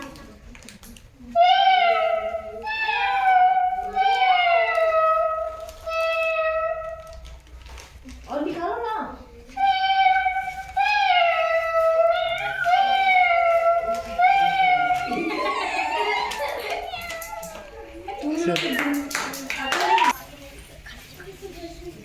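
A sixth-grade boy imitates a cat's meow at a school children's day program, giving a series of drawn-out nasal meows in two runs, loud and close, followed by applause and children's voices.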